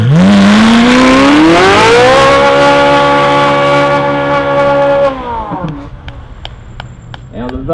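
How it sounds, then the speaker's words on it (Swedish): Ferrari engine revving hard as it warms up before a Swedish street race, rising to a loud sustained high-pitched roar for about five seconds, then dropping away to a lower idle with faint clicks and background noise. "Värmning från Ferrari."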